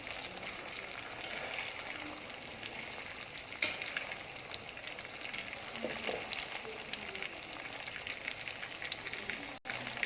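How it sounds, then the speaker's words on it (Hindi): Chicken pieces fry in hot oil for restaurant-style chicken vegetable fried rice, giving a soft, continuous sizzling crackle with scattered pops and an occasional faint clink. "माशाल्लाह से चिकन हमारा अच्छे से फ्राई हो रहा है।"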